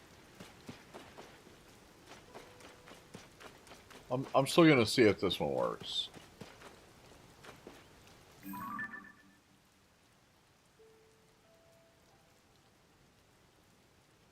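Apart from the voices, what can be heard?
rain in the video game Zelda Tears of the Kingdom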